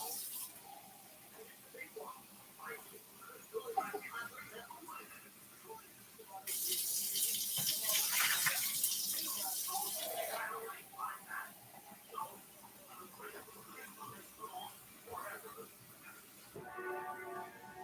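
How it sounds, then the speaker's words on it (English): Tap water runs steadily into a container, a loud continuous gush lasting several seconds between quieter handling noises and a faint voice. "Put some water in here."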